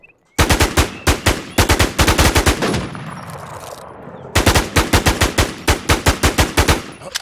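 Rapid automatic rifle fire from SIG and Honey Badger rifles in a shooter video game, two long loud bursts of evenly spaced shots separated by a short lull with fading echo.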